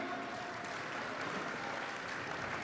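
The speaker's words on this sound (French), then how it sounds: "Allez, on les applaudit." Applause from an audience at a French-speaking cosplay event stage, steady dense clapping at moderate distance lasting throughout, with no talk over it.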